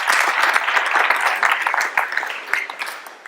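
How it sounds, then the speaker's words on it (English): An audience at a music talk gives itself a round of applause, bright scattered clapping that swells and then gradually thins out toward the end. "Give yourselves a round of applause."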